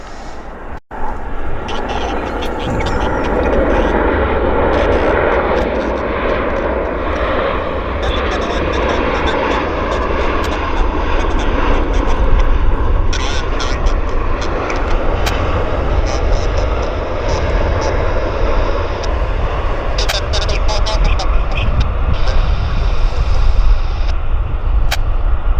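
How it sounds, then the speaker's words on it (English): Boeing airliner landing at Vancouver airport, a loud sustained jet engine roar with rushing wind that swells slightly midway, with talk and background chatter underneath. "Oh, we got a Boeing landing."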